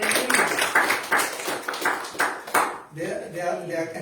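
A church congregation claps in a quick, rhythmic beat of sharp hand slaps, then it fades as the clapping stops and a voice carries on alone.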